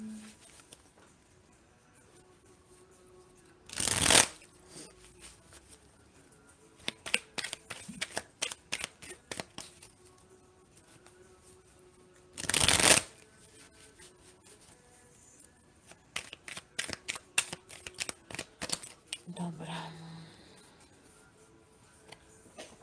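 Tarot cards shuffled by hand during a fortune-telling session, two loud riffling bursts separated by runs of crisp flicks and taps as cards are handled and laid out, close and clear, no talking.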